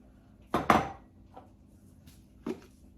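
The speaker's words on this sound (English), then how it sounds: "Now, I'm putting in 1 egg." An egg goes into a hamburger steak mixture in a bowl with two sharp clinks and taps close by, then a faint knock and one more light tap in an otherwise quiet kitchen.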